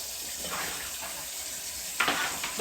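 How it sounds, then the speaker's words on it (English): Tap water runs steadily into a kitchen sink while dishes are washed, a close, continuous hiss with a brief louder splash near the end. "I have to do the dishes again."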